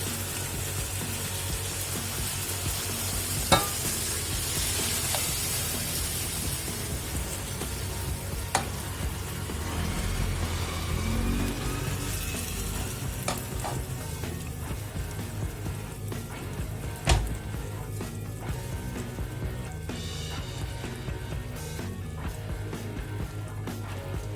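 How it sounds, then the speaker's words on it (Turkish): Hot sugar syrup poured over freshly baked baklava gives a steady crackling sizzle with soft spattering, a few sharp clicks and pops along the way, close by and continuous, with no talking. "Sıcak sıcak şerbetimizi veriyoruz."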